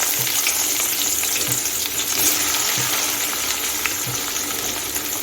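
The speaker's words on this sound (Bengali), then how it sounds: "মাছ ভাজা তেলে আমি পেঁয়াজটা ভেজে নেব" Onions sizzle steadily in hot oil left from frying hilsa fish, a loud continuous frying hiss with faint scraping stirs throughout, no voices.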